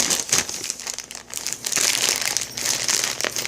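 Wrapping on a mystery package crinkles and crumples loudly and continuously as it is pulled open, close up with no talking.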